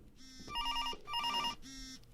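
A telephone rings inside a virtual-reality game, two bursts of a bright electronic ring separated by a short pause, fairly close and clear over a low background hum, with no talking.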